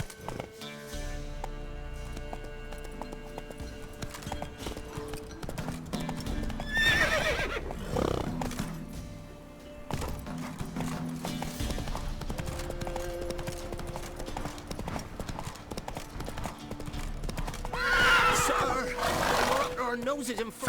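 Roach, the horse in The Witcher 3: Wild Hunt, trots with steady clip-clop hoofbeats and gives two loud neighs, set against game ambience and voices talking.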